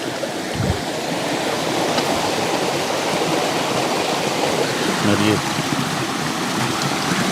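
A forest waterfall near a village water source pours with a loud, continuous rushing roar, and someone speaks briefly over it.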